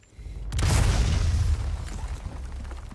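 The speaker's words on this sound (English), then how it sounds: "If I roll a grenade." A grenade explodes in Resident Evil 4 Remake, a sudden loud boom with a heavy low-end rumble that rolls on and slowly fades over the following seconds.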